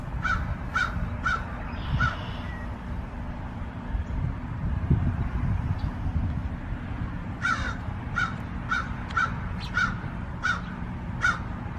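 Crows caw in short repeated bursts, a few at the start and a longer series later, over steady wind noise outdoors.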